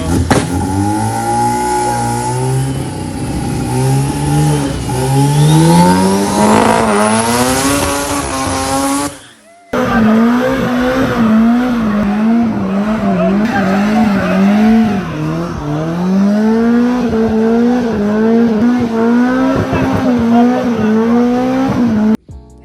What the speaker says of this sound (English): give us a little burnout